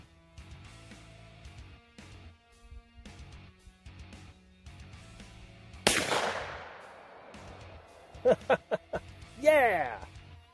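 A Pathfinder air gun fires at a target from about 50 yards, giving one sharp report followed by a few quick impacts. Someone talks quietly through most of the clip.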